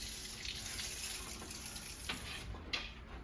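Water runs steadily from a tap into a tub while a lynx is bathed. It makes a continuous, fairly quiet splashing rush with a few brief louder splashes near the end.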